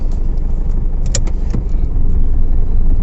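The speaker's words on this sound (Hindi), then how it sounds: "देखो गाड़ी का इंजन बहुत वाइब्रेट कर रहा है" A Toyota Innova engine idles rough and vibrating, a loud, constant low rumble close by with occasional faint clicks and rattles, slightly louder toward the end.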